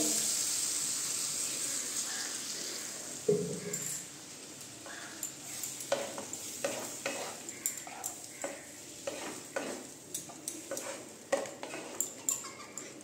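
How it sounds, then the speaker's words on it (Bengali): Water poured into spiced cauliflower frying in a pan: a faint sizzle builds as the liquid goes in, then a series of soft scraping stir strokes with crackling hisses. "এখন এটার মধ্যে দিয়ে দিচ্ছি আমি অল্প অল্প জল"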